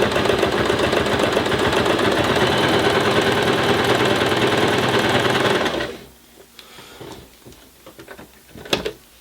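A beginner sewing machine stitches through a bulky project with a standard foot and needle, running as a loud, steady mechanical whir for about six seconds before stopping, followed by a few faint clicks and handling knocks.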